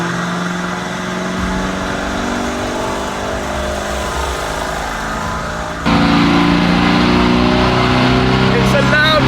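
A Lamborghini Urus on a dyno, running in limp mode, makes its stock power run: the engine drones steadily, then jumps abruptly louder as revs climb. A voice speaks over the engine noise.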